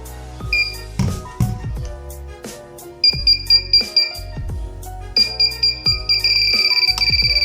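A GP Pointer handheld detector held close to a phone charger emits a run of high electronic beeps, sparse at first, then faster, denser and nearly continuous, loud and close over a low background hum and clatter.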